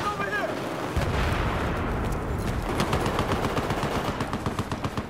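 Gunfire and airburst shots in a first-person shooter video game, with dense bursts of rapid automatic fire and booming blasts that run continuously and loudly up close, with a voice faintly present underneath.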